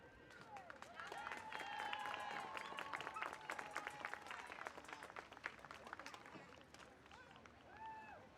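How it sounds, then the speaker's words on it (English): Crowd applause at a girls' varsity soccer senior night, clapping spread across the field amid cheers and whistles, fairly distant and continuing for several seconds. "Nice round of applause for the Camden Catholic Irish girls seniors."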